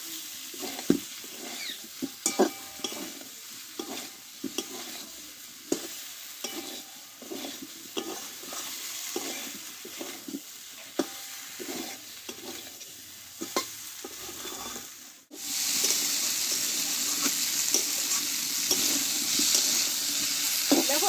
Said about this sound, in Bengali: আলু ফুলকপিটা ভালোভাবে কষে নিচ্ছি